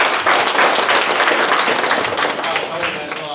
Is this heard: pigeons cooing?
no